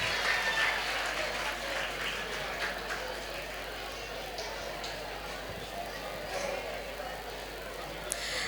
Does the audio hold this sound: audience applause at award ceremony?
yes